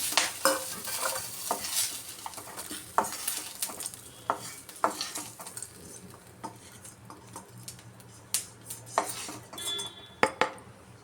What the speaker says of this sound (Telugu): జీలకర్ర కూడా వీటితో పాటు ఫ్రై చేసుకున్నాం చూడండి ఇలా కొంచెం వేగా కదా